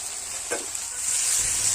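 Tomatoes with chili paste, cumin paste and spices fry and sizzle in a pan for a meat curry, a continuous hiss broken by a brief scrape of stirring.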